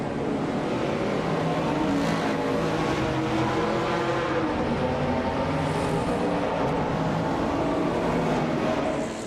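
Race cars in a racing video game, among them a 1977 Renault Alpine A442B and a 1970 Chevrolet Camaro, making a dense, continuous engine roar that holds steady and loud throughout without a break.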